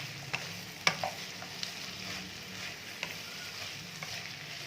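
A spoon stirring a Chinese rice mixture with salt in a pan, giving repeated scraping strokes at an uneven pace over a soft, continuous sizzling hiss from the hot pan.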